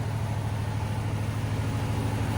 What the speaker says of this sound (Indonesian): Tempat penggilingan padi.